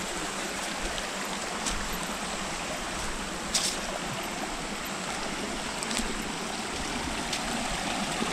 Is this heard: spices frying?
no